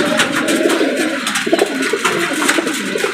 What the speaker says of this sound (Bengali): এই যে কবুতর।